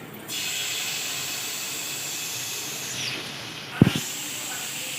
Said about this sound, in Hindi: पूरे पैन में बटर को लेंगे। अब हम अपनी स्टिक्स इसमें रखेंगे।